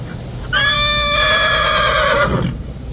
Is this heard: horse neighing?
yes